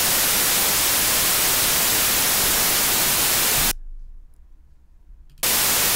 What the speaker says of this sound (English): that's just recording the white noise coming out of the test tone plugin